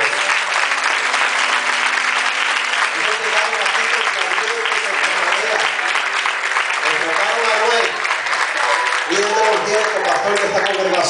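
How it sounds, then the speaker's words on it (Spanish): A church congregation at a youth revival service claps for the women, loud, dense applause with shouts mixed in, and a voice speaks over the clapping near the end. "denle un aplauso a los mujeres, por favor"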